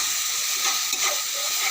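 Masala paste fries in a pan with a dense, steady sizzling hiss, close and moderately loud, with faint stirring movement and no voices.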